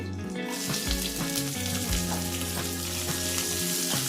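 Mustard seeds, cumin, curry leaves and onion frying in hot oil for a vegetable saagu, a dense close sizzle with faint crackles and occasional stirring knocks, no voices.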